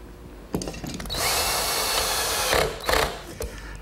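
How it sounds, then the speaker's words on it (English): Power drill driving screws into a walnut table rail, a short buzzing whir of about a second and a half between clicks and handling knocks, close and loud. "attach it with some screws from the inside"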